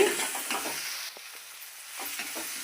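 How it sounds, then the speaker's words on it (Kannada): Masala and coriander leaves fry in a pan over a medium flame with a steady, soft sizzle. Light stirring scrapes come and go across the short stretch, and no one talks. "ಈಗ ಮೀಡಿಯಮ್ ಫ್ಲೇಮಲ್ಲಿ ಫ್ರೈ ಮಾಡ್ಕೊಳ್ಳೋಣ ಫ್ರೈ ಮಾಡ್ಕೊಂಡಾದ್ಮೇಲೆ ಕೊತ್ತಂಬ್ರಿನ ಹಾಕೋಬೇಕು"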